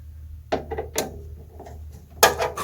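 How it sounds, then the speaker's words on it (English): Screws being undone from a board inside an HP Compaq server, likely a DL380 G4 or ML350 G3, giving close, short metallic clicks and ratcheting scrapes in several separate bursts, with a louder rattle near the end and no talking. "If we unplug that front bit, then undo 4 screws."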